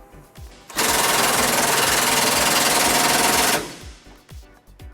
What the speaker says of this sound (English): Now we're going to tighten up both of those bolts to put our bumper back into place.